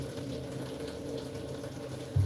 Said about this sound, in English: Here I get some water.